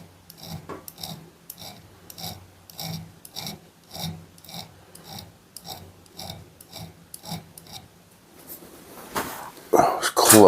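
A file rasps across a knife edge clamped in a vise, flattening it for a sharpening choil, in steady repeated strokes at close range, ending with a louder burst of scraping.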